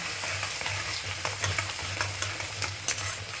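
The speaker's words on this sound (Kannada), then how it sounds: "ಬೆಳ್ಳುಳ್ಳಿ ಚಂದ ಎಣ್ಣೆಯಾಗ ಫ್ರೈ ಆಗಿ ಫ್ರೈ ಆಗಬೇಕು." Garlic sizzles and fries steadily in hot oil with a few soft stirring clicks, a close, continuous crackle with no voices.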